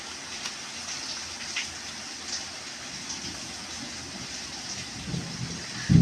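Steady rain falling outside at dawn, a continuous soft hiss spread evenly throughout with no distinct drops standing out, and a brief louder rustle right at the end.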